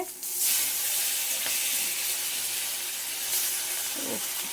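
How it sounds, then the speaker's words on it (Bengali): Steady, close sizzling of hilsa fish frying in hot oil, a continuous bright crackle and hiss throughout with no talking. "ইলিশ মাছ হচ্ছে ভাজা"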